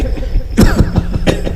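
During a devotional kirtan talk, a man vocally imitates a harsh cough after oily fried sour food, with a quick string of sharp, dry hacks bursting out one after another, close and loud.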